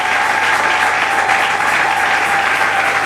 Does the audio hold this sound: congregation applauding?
yes